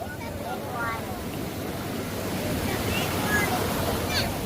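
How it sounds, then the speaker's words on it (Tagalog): Strong sea waves surge and wash in a continuous broad roar, close and fairly loud, mixed with wind buffeting the microphone. "Lakas ng alon."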